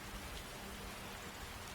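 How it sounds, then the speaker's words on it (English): Steady, even rain in the video game Skyrim, with a dense, unbroken hiss of falling drops throughout. "Yeah, it's still raining."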